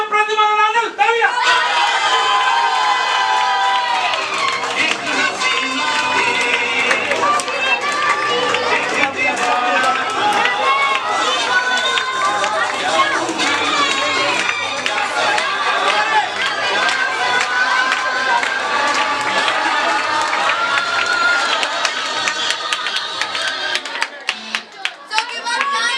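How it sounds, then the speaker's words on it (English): An audience at a felicitation celebration claps and cheers steadily and loudly for most of the stretch, with voices and tonal crowd sound mixed in, easing off near the end. "Mister प्रतिमा नागल, तालियां!"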